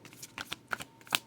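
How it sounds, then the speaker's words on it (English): A deck of playing cards being shuffled in quick riffling bursts, several sharp crisp flutters spread over a second or so, fairly loud and close with no talking. "Sorry if this is super loud, the shuffling."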